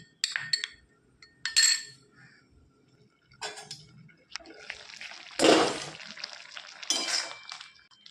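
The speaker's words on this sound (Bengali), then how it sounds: "জল দিয়ে দিচ্ছি একটু দুটো মশলাকে একসঙ্গে মিশিয়ে নিচ্ছি" A utensil clinks and scrapes against a bowl while two spices are mixed with a little water for a Bengali shukto, with intermittent sharp clinks and soft wet stirring, close and moderately loud.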